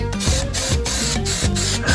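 Spray adhesive hisses from a can onto foam padding for a VW Bug ragtop headliner, in about four steady bursts with short gaps, close and fairly loud and alone, with a low rumbling background underneath.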